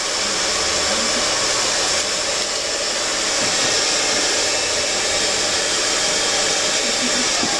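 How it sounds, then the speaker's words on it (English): Hair dryer blowing hair dry at the roots in a styling academy, a loud continuous close-up whoosh held steady throughout with no break. "I'm taking fine sections, really over-directing the hair forward, and blowing dry right at the roots."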